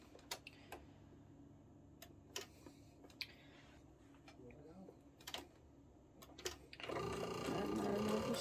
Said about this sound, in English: And then we're just going to sew these up.